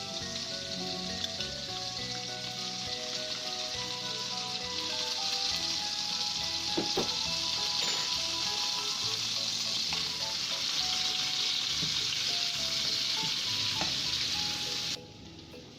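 Minced garlic sizzling in melted butter in a pan, a steady bright crackle that holds loud and even throughout, briefly dropping lower near the end, with no voices.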